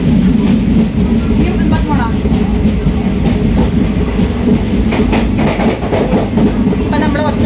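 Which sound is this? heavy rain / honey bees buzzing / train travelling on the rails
train travelling on the rails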